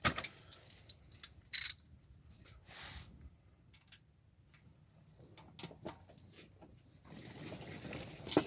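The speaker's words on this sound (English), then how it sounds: "Take some wrenches." Metal wrenches clink and jangle in scattered bursts as they are handled near a 2005 Subaru Outback during oil pan work, separated by quiet gaps in an otherwise still space.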